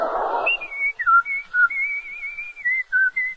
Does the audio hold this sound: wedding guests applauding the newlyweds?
no